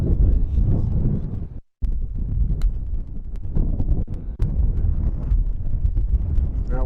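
Strong, steady wind buffets the microphone on a windy oceanside links golf course at Sheep Ranch, a loud, continuous low roar with gusty swells and one brief dropout.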